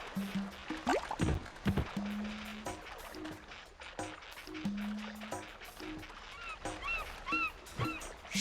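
Birds in the Nicktoons Battle for Volcano Island video game give repeated short nasal honks, goose-like calls in bursts among clicks and splashy game effects, fairly quiet overall.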